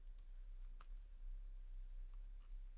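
A computer mouse clicks a few times while a poster is edited in design software, producing faint, sparse, sharp ticks over a quiet background hiss.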